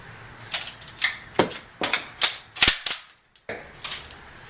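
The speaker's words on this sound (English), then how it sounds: "rack it once, and then as I'm going forward to touch my muzzle, or to grab my muzzle, I'm hitting the forward assist button at the same time" M4 rifle racked and forward assist button hit, a rapid series of crisp metallic clacks and snaps, close and loud, with a short silent gap before a final clack.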